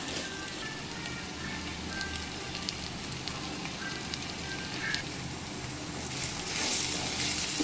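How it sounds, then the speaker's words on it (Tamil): Brinjal pieces frying in hot oil with a spice powder, giving a steady, close sizzle and crackle that runs alone throughout without pause. "இப்போ பார்த்தீங்கன்னா கத்திரிக்காய் எண்ணெயிலே நல்லா வெந்து வந்துருச்சு ஃப்ரெண்ட்ஸ்."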